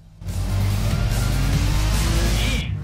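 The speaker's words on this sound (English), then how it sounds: "Damn, this Shelby is loud." A Shelby car engine in the video game Need for Speed World roars loudly and continuously for a few seconds, a deep, sustained revving drone that cuts off abruptly at the end.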